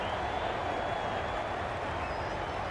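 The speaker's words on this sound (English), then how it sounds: "Will you listen to the crowd?" A stadium crowd in the cricket game Cricket 22 keeps up a steady, dense roar of cheering and applause that holds at an even level throughout, with no single voice standing out.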